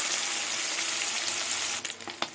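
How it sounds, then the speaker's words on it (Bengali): Puti fish fry in hot oil with a steady, dense hiss and sizzle, then a few sharper crackles and spatters near the end. "এইভাবে সব পুঁটি মাছগুলো ভেজে নেব।"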